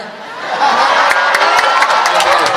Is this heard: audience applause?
yes